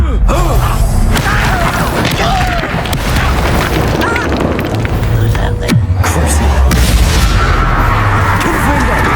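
A Confringo explosive spell in the video game Hogwarts Legacy: loud booming blasts and crackling impacts amid dense combat noise, with brief voices under the chaotic action.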